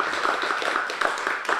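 Audience applause for a sponsor, an art gallery, at a community storytelling event: steady, dense clapping throughout, fairly close and loud, with no talking.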